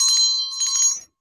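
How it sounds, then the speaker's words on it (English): A small handbell sent as a gift rings with bright, sustained metallic tones, shaken in a steady jingle for about a second before cutting off cleanly into silence. "she sent me a bell"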